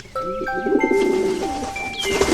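Pigeon cooing in a short cartoon kids' story scene, soft repeated bird calls with bright tonal whistles layered over a continuous background tone, no talking.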